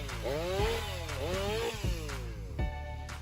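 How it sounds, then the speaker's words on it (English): A fuel-injected chainsaw cuts through large logs with a loud, continuous engine drone that dips and rises with load, revving several times. "an advanced chainsaw designed to conquer huge blocks of wood"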